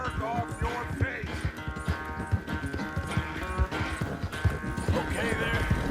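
Horse hooves clip-clop steadily through a Red Dead Redemption 2 game scene, a regular rhythmic trot close by with busy music and ambient game sound underneath and a voice speaking over it.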